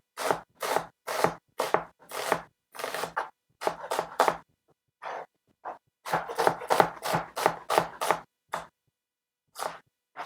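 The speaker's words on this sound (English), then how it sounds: "of the onion, and we slice" A knife slices through the bulb of an onion for a bean, avocado and tomato salad, a quick run of crisp, close cuts in two bursts with a short pause between, loud and clear with no talking.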